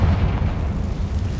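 A Confringo blasting curse goes off in the Hogwarts Legacy game, a single heavy, rumbling explosion with a deep low boom that rolls on for over a second.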